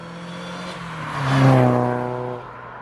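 Tuned, supercharged Mazda MX5 making about 220 brake horsepower, its engine note swelling louder mid-clip as revs climb, then easing back down to a steady drone.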